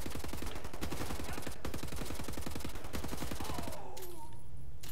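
Dense automatic gunfire from the shooter video game Wolfenstein: The New Order rattles in rapid, continuous bursts for about four seconds, then cuts off, leaving quieter game ambience.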